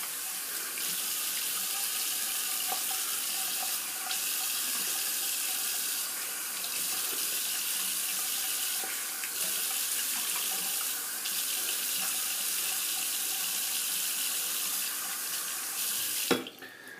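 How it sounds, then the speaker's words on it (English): Tap water runs steadily into a sink while a ceramic shaving bowl is rinsed, a continuous soft splashing hiss with a small knock near the end. "I'll just set this down, rinse it off so I don't drop this ceramic bowl."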